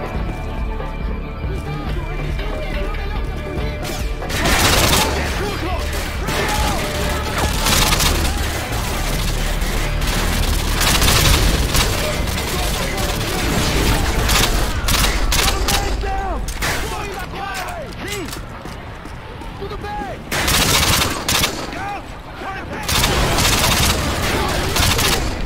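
Call of Duty Modern Warfare 2 military operation gunfire: dense, loud bursts of automatic fire and rapid shots crackle almost continuously, with heavy booms and shouted voices in the chaos.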